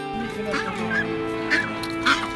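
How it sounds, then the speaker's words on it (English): Waterfowl at a pond honking in goose-like calls, several bursts spaced about half a second apart over a steady outdoor background, moderately close. "Checking out the waterfowl."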